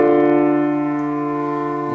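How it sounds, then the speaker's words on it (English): A minor triad chord rings out as one sustained, gently decaying chord, heard alone, with a faint new attack right at the end. "We have minor triads, which sound like this,"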